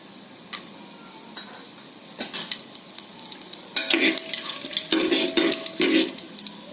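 Whole spices (star anise, black cardamom, cinnamon, peppercorns and cloves) sizzle in oil in a pressure cooker for green peas pulao, with scraping stirs and clinks building into louder bursts of frying close by.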